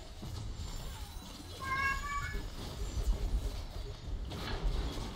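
A single cat meow, mid-level and a little distant, comes about two seconds in over steady hiss and low mechanical noise.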